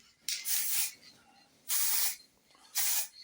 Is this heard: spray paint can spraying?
yes